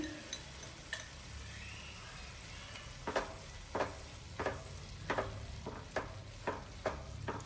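Soft sizzling of vegetables with pav bhaji masala and Schezwan chutney in a pan, with a series of sharper scraping or stirring bursts every half second or so toward the end.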